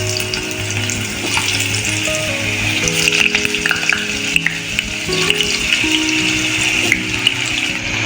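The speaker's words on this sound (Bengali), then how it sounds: "প্রথমে আমি আলুটা ভেজে নেব।" Potatoes fry in hot mustard oil in a wok with a steady, close sizzle that carries on unbroken, with no talk over it.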